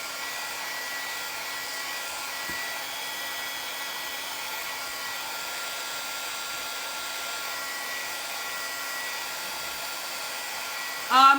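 A hair dryer runs steadily, drying a coat of wax on a finished piece, holding an even, loud whir throughout with a brief louder burst at the very end.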